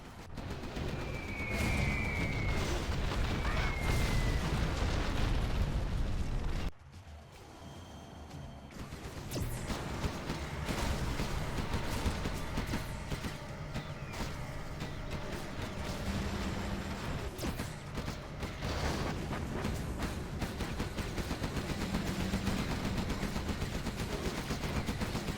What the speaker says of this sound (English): Carpet artillery now from Fargo